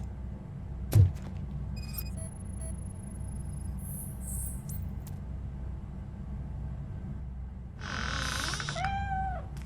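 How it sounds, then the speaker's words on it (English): A cat in the video game RoboCop: Rogue City gives a single drawn-out meow near the end, following a quiet ambient stretch with a sharp thump and faint electronic tones earlier. "The cat is fine."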